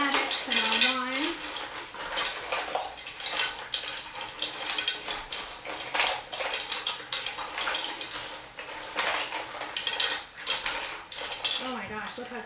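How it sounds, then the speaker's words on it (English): Mussels with aromatics and wine are stirred in a pot, with repeated clattering shell and metal scrapes and clanks up close under a little sizzling, while a voice briefly speaks. "I'm going to stir them up."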